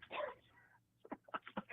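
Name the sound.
person imitating a dog barking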